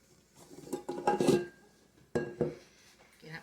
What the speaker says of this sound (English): My dough scraper.